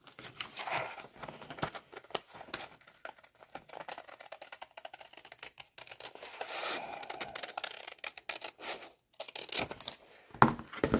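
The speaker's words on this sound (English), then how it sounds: "I'll just use the bottom of this picture as a guide for my scissors" Scissors snip through a paper picture, cutting along its bottom edge, in a run of short, crisp cuts with rustling and crinkling of the paper between them, close and fairly quiet.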